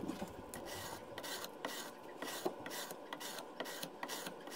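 A drawknife edge is rubbed on a higher-grit abrasive in hand sharpening, with quiet, rhythmic rasping strokes repeating about twice a second, close and alone.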